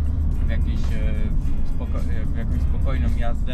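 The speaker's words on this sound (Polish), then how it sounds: "Przywitał nas rasowy dźwięk silnika czterocylindrowego, który dobiega zza naszych pleców." Mazda MX-5 Roadster 2.0 SkyActiv-G four-cylinder engine humming low and steady during a calm city drive, with someone talking over it throughout.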